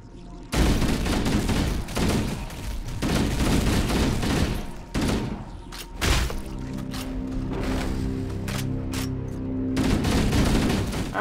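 Gunfire in Halo: Combat Evolved Anniversary, loud bursts of rapid shots with heavy impacts and thuds, pausing briefly before resuming in sustained volleys.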